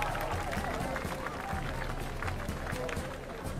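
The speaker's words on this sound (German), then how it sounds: "Die Dörfler fingen an, in die Hände zu klatschen." Villagers clap their hands in an audio drama, a dense, continuous patter of many hands mixed with crowd noise, loud and steady throughout.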